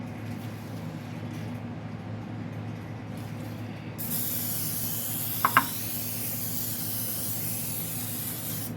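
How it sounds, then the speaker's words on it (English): Cooking spray hisses into a baking dish for a chicken and cabbage casserole, starting abruptly midway as a steady close spray, with a couple of small clicks partway through. "You spray a little bit in there"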